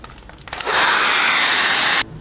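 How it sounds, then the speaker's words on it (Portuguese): Hair dryer switched on to dry glue on a fabric-covered Christmas gift box, a loud, steady rushing whoosh for about a second and a half, then cut off abruptly after a few faint handling clicks. "Acho que eu vou usar o secador para ajudar."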